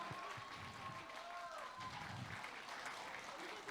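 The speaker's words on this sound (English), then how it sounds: "Please, big round of applause for Alu Arjun sir." A large crowd at a Pushpa 2 event applauds and cheers in a continuous roar, with a voice and faint whistles rising above the noise.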